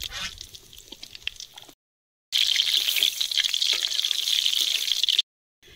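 Tengra fish hits hot oil in a pan and sets off a loud, steady sizzling hiss that runs for several seconds, with quieter kitchen noise before it and a brief pause partway through.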